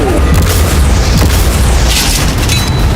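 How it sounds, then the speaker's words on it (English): Heavy cannons in a video game fire at a yacht, loud booming blasts and bursts filling the stretch with dense, close explosive impacts and no talk. "These cannons are way more hardcore than I thought they were."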